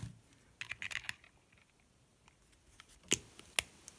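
Wire snipped with cutters for a DIY wire tree: a few soft handling clicks early on, then two sharp, close snaps of the blade in a quiet room.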